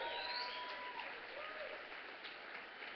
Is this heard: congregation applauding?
yes